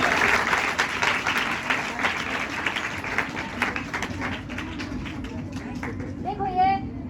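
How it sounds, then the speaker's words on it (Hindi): Audience applause breaks out during a liquid nitrogen demonstration, steady clapping mixed with crowd noise and children's voices, fairly loud throughout, with a voice rising near the end. "तालियां हो जाए, तालियां।"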